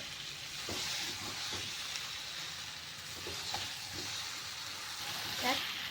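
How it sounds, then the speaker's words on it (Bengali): Fried potato, pointed gourd and egg sauté with spices in oil, giving a soft, continuous sizzle with occasional scrapes of stirring, fairly quiet throughout. "এবার আমি মশলার সাথে নিয়ে সব কিছু কষিয়ে নেব।"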